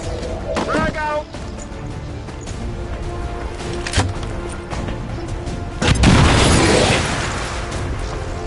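A frag grenade goes off in the XCOM 2 video game, a loud broadband explosive burst rising near the end and ringing out over a steady background of game effects, with sharp earlier pops and a voice speaking.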